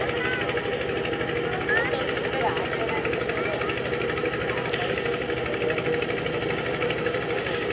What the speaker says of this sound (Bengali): ডিজেল ইঞ্জিনের মাধ্যমে অক্সিজেন তৈরি করে সেই অক্সিজেনের মাধ্যমে স্থানীয় লোকজন এখানে পানিতে সন্ধান করছে কিশোরের